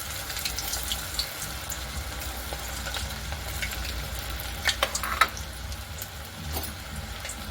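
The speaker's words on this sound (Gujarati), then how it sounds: "હવે આપણે બધી જ બોલ્સને તળી લઈશું।" Cabbage Manchurian balls fry in hot oil with a steady, even crackle and hiss throughout, plus a few small clinks and taps near the end.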